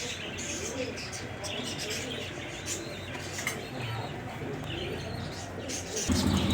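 Damanhour pigeons in a keeper's loft coo steadily in overlapping, low throaty calls, with occasional chirps and faint background voices mixed in.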